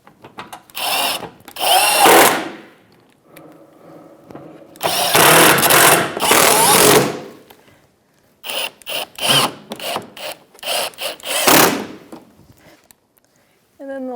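A power tool with a 10mm socket drives regular 6mm bolts into the front splash shield of a 2013-2018 Toyota RAV4, giving several loud, close whirring bursts separated by pauses, some short and choppy.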